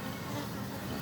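Wild Apis cerana bees fighting in a swarm, a steady close droning buzz with a low hum filling the whole moment, no voices.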